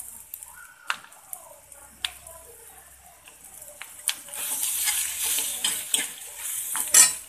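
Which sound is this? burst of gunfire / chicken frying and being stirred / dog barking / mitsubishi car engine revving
chicken frying and being stirred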